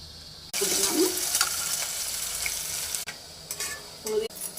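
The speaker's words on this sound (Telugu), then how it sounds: "ఆయిల్ వేడైంది, మసాలా దినుసులు వేసుకుందాం." Whole spices for a meal maker pulao hit hot oil with a sudden burst of loud crackling sizzle that carries on steadily, broken by a few short clatters and a pause near the end.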